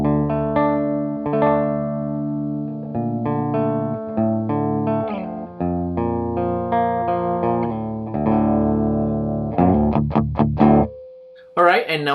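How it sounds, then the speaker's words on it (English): An electric guitar through the clean channel of a Turbo Valve amplifier plays sustained chords and single notes up close, with clear ringing harmonics, a brief burst of faster picking near the end, then a held tone. "this is how the clean channel of my turbo valve sounds"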